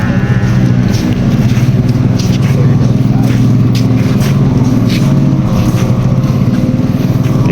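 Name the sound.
power boat engine warming up before a race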